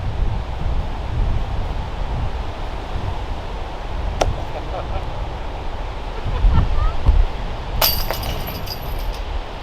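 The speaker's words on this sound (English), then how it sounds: "Holy cow, it's windy." Strong wind gusts across an outdoor disc golf course, producing a steady, loud, low buffeting rumble throughout, with a brief sharp clatter near the end.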